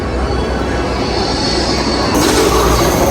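A train arrives at a station at Hong Kong Disneyland Resort, with loud, close rumbling and a steady roar, and brake hiss and wheel squeal rising near the end.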